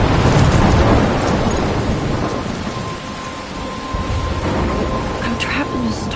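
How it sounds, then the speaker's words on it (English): Thunderstorm in the Life is Strange video game: steady heavy rain hiss with low rolling thunder rumbles throughout, loud and continuous, with a faint tonal hum and no speech. "I'm trapped in a storm?"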